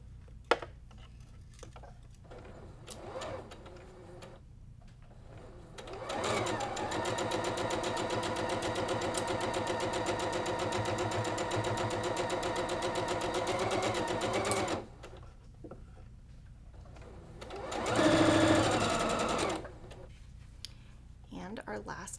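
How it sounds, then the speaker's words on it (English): A sewing machine stitches a Sawtooth Star quilt block in two separate runs. It gives a steady, fast mechanical whir for several seconds, then a shorter burst, with quiet gaps and a few faint handling clicks in between. "we're going to stitch all the way down without stopping"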